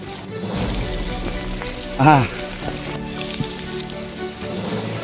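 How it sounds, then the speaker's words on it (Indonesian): Steady patter of rain hitting a camera close by during a mountain hike on Latimojong, Indonesia, a dense hiss with scattered drops, and a brief louder burst partway through. "Kamera sudah diguyur hujan"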